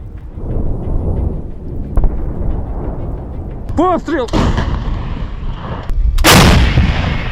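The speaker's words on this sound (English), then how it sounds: "First, cluster munitions are used to cover the area and cut off personnel from escape routes." Cluster munitions and artillery strike a convoy heading toward Pokrovsk with heavy, rumbling booms and crackling blasts. A brief whistling sweep comes before a loud final burst, over continuous low rumble.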